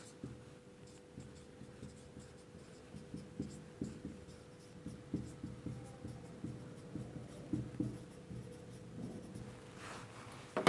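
Steady pen-on-paper writing as notes are taken, a run of soft close scratchy strokes in uneven rhythm, quiet and continuous with no talk.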